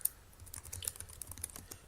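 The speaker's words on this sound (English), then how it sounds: "you can hear me typing" Rapid typing on a computer keyboard, close and fairly quiet, with irregular clusters of light key clicks and no talking.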